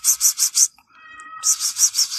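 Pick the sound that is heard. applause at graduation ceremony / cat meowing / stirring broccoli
cat meowing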